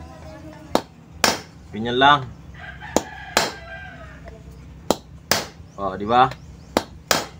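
A washing machine lock is pounded with the metal shaft of an electric fan, giving sharp, loud, evenly spaced metallic knocks. Someone talks briefly between the blows and a rooster crows in the background.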